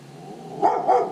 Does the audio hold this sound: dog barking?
yes